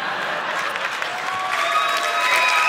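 A comedy show audience breaks into dense applause mixed with cheers and screams, loud and sustained for the whole short stretch.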